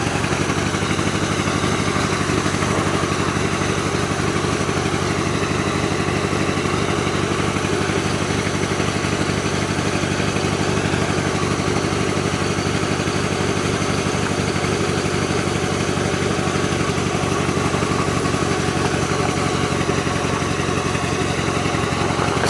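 A tractor engine runs steadily and loud throughout, a continuous low mechanical drone with clattery texture while the machine backs up a hill.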